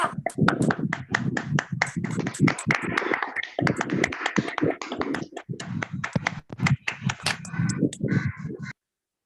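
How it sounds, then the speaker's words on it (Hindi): A small group claps to welcome a speaker at a leadership meeting, with the claps irregular and uneven, heard alongside speech and scattered taps before stopping abruptly. "जल्दी से सब आप सबकी तालियों के साथ मैं इनवाइट करूंगी"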